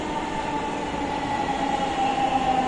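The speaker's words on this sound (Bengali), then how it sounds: "মেট্রো রেলটি চলে আসলো" A metro rail train pulls into a station platform, a continuous loud rumble with a steady whining tone and faint rail noise, without speech.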